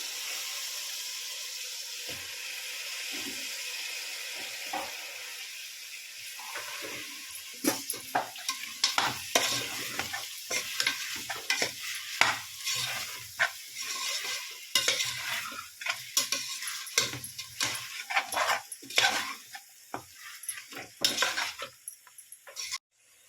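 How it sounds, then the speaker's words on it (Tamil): Brinjal (eggplant) pieces stir-fried in a pan with onion, tomato and ginger-garlic paste for an Indian dish. Steady sizzling runs throughout, broken by many sharp scraping and clinking stirring strokes that grow busier and louder toward the end. "கத்திரிக்காய் போட்டுக்கலாம்."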